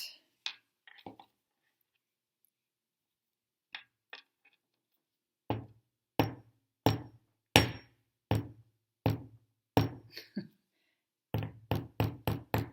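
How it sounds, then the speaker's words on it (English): Sharp metallic hammer taps on a wire clasp: a few scattered strikes, then a steady run of about a dozen evenly spaced blows, close and fairly loud with no talking. "I do like to hammer this one a little bit because it does strengthen it"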